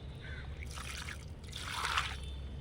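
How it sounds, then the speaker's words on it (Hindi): Water is poured onto garden soil before radish seeds are sown, giving two soft bursts of trickling and splashing close by over a low steady background hum. "तो इसके ऊपर पहले से हम पानी डाले दे रहे हैं"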